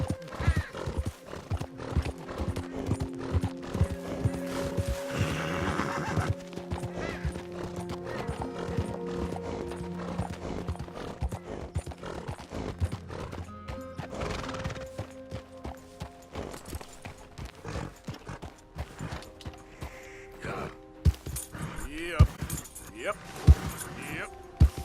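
Horse hooves clip-clop at a steady gallop with a whinny, in the video game Red Dead Redemption 2, set against game music and clinking effects, fairly loud and continuous throughout.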